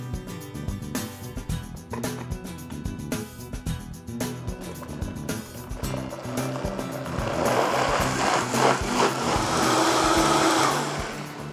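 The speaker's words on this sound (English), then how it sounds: "nothing makes a smooth puree like a good old-fashioned blender like this" A blender purees leftovers in stages, whirring loudly with shifting pitch and choppy pulses before settling into a steadier, fuller roar of smooth blending near the end.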